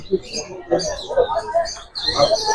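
Several small birds chirp and tweet in quick, overlapping bursts nearby, busy and high-pitched, with a brief pause before the chatter resumes.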